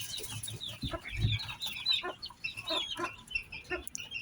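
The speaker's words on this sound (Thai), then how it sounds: "มาให้ อาหารไก่ครับ" Bantam chickens cluck and chirp busily at feeding time, a cluster of short, nearby calls and soft peeps overlapping in a quick irregular rhythm.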